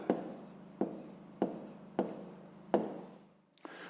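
Pen writing an answer by hand on paper for a fifth-grade fraction exercise, heard as a few short scratchy strokes separated by brief pauses, close up and quiet with no talking.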